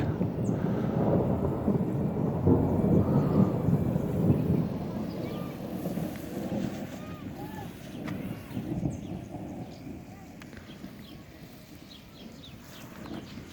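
Thunder rumbles in low, rolling waves over a vegetable garden of eggplants, onions and beans as rain approaches, with steady wind noise against the microphone throughout.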